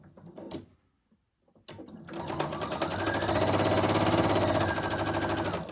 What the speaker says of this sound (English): You're going to sew a 1/4 of an inch seam.